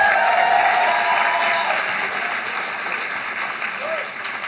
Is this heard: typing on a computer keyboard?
no